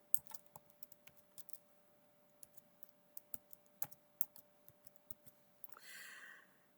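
Keystrokes on a computer keyboard, entering a math function: sparse, irregular clicks spread across several seconds, close and faint, with a brief hiss near the end and no talking.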